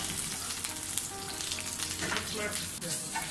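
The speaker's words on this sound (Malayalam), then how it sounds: "ഇപ്പോൾ ഉള്ളിയൊക്കെ നന്നായിട്ട് മൂത്ത് വന്നിട്ടുണ്ട്." Sliced onions and curry leaves fry in hot oil in a pan for a Kerala-style chicken curry, giving a steady, dense sizzle and crackle throughout at close range.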